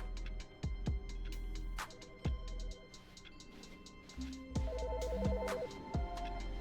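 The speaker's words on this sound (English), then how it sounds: "Phone's going off again now." In The Stanley Parable, a telephone rings in a repeating electronic pattern over sharp thuds and game sounds, fairly faint and with no talking.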